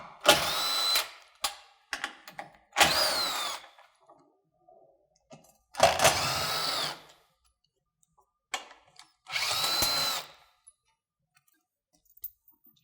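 Fasteners are pulled from the visor of a Polaris General off-road vehicle: several short whirring bursts from a power tool, close and separated by pauses, with light clicks and handling noises between.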